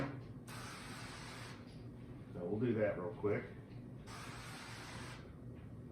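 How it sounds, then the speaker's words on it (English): Non-stick cooking spray hisses onto a grate in two steady bursts, one early and one late, with a person speaking between them while venison snack sticks are being prepared. "You do want to spray down whatever grate you're going to use with some non-stick."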